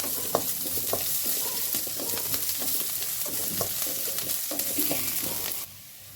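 Finely chopped onions, about half an onion, frying in a pan, with a continuous crackling sizzle and frequent spatula stirring scrapes that cut off near the end.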